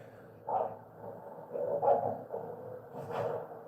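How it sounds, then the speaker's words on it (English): A dog growls and grumbles in a few rough bursts at close range, with short gaps between them and a low room rumble underneath. "Oh my God, that fucking dog is growling."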